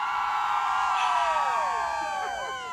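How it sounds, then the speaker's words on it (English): An excited crowd cheering, with high, sliding whoops and yells rising over a dense, steady roar, loud and close. "The crowd going crazy right now."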